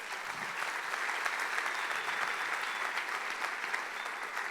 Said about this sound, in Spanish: ¿Cuánto dan un aplauso al Señor?